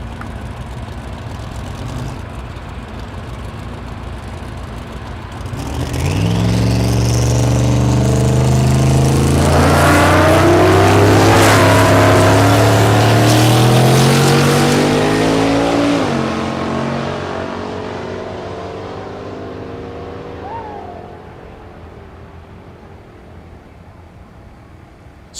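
Two drag cars, a Chevrolet Camaro and a Ford Mustang, launch side by side at a drag strip, engines roaring loud and close as they accelerate hard for about ten seconds, then fading into the distance.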